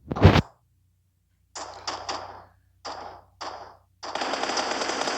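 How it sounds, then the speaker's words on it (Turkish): Video game gunfire rakes toward the players: a sharp opening shot, then several short automatic bursts in quick succession, ending in a longer sustained burst, loud and close with no talk over it. "Kim sıktı bize?"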